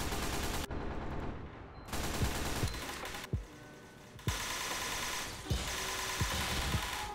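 Rapid bursts of nail gun fire from the 2006 Team Fortress 2 beta, loud rattling volleys with short gaps and sharp low thumps between them, set against game background noise.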